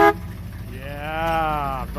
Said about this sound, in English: Give me a toot on the air horn.